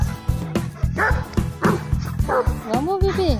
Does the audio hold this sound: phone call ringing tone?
no